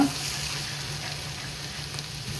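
Idiyappam noodles with egg, carrot and leeks being stirred together in a hot pan, giving a steady, even sizzle with no pauses and no talking.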